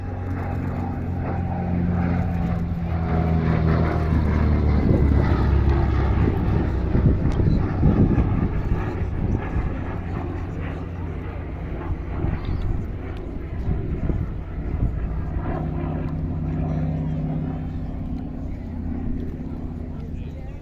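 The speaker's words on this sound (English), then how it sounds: "with its big, powerful American radial engine producing a great sound" A Yakovlev Yak-3 fitted with a 1200-horsepower Pratt & Whitney R1830 radial engine makes a low pass at an airshow, a loud, steady propeller drone that swells through the middle and eases off, with wind buffeting and a commentator talking over it.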